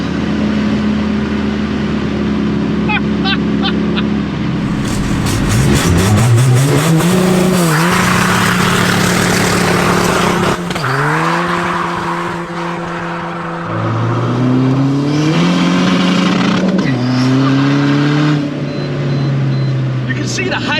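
A 500bhp Seat Ibiza FR diesel running nitrous, loud and close, idling then launching hard with a rising engine roar through repeated gear shifts, tyre noise throughout as both front tyres spin; voices are heard over the engine.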